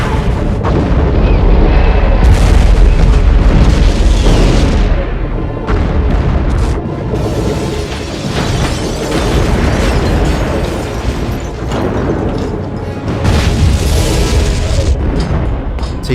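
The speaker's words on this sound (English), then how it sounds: "Resume the bombardment, Commander." Heavy, continuous booming explosions of a planetary bombardment in a Star Wars fan film, loud overlapping blasts and rumbling debris filling the whole stretch without pause.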